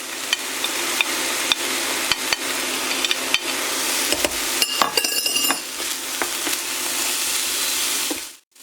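Ground meat frying in a hot pan with spices, a steady close sizzle with scattered crackles and pops, and a brief burst of stirring scrapes midway before the heat cuts off at the end.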